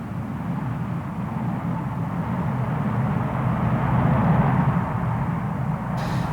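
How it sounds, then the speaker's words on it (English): A Russian Tupolev Tu-144 supersonic transport taking off at the 1985 Paris Air Show, a loud sustained jet roar with a broad low rumble that swells toward the middle and holds steady, heard from a distance. "Now taking off, the Russian Tu-144 supersonic transport by Tupelo."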